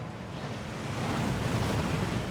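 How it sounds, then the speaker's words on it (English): The waterfall in Gringotts in Hogwarts Legacy rushes with a broad, steady roar of falling water that swells slightly, continuous and fairly close, with no voices. "That waterfall washes away all enchantments."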